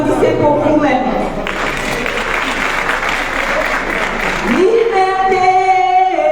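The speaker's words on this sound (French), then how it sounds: "Nous voulons que vous applaudissez pour vous-même" Crowd at an outdoor gathering in Paris applauding, a burst of clapping sandwiched between loud amplified speech, fairly near and dense in the middle before the voice returns.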